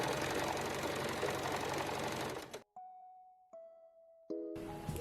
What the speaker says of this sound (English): sew up the front and back center seams